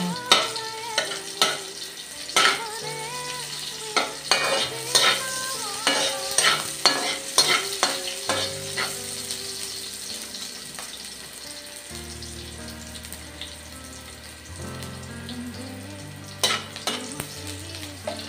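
Garlic frying in a pan is stirred with repeated close scraping clatters over a steady sizzle, the strokes coming in quick bursts at first and then thinning out, with no talk.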